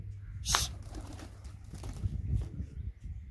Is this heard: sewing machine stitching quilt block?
no